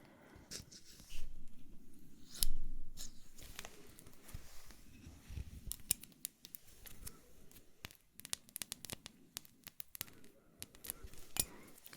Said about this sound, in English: I'm going to use my special scissors.